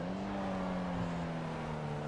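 A car drives in the game GTA on PS5, giving a steady engine drone with a constant pitch that holds at even loudness throughout, with nobody talking.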